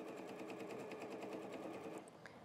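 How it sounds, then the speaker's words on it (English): A domestic sewing machine stitches fabric for a quilted table runner, its rapid, even needle rhythm chattering quietly and close for about two seconds before slowing to a stop. "So I'm going to sew down a ways."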